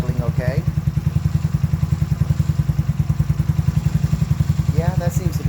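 A go-kart engine idles after carburetor cleaning, a steady close rapid low putter with even pulses throughout, while someone talks briefly over it near the start and end.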